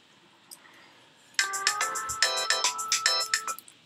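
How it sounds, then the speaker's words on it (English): A phone ringtone goes off in a video game, a bright repeating electronic melody of short chiming notes that starts abruptly and plays loudly for about two seconds with no talking over it. "Phone's going off."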